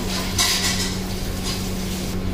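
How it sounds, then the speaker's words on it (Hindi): Utensils clink against a brass kadhai with ridged edges as desi cow ghee goes in, a steady run of light metallic knocks and scrapes close by over a low background hum. "अभी गाय का देसी घी डालेंगे।"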